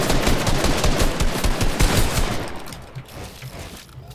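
Rapid, dense gunfire in a Fortnite box fight, a loud continuous burst of overlapping shots that thins out toward the end, with no voices over it.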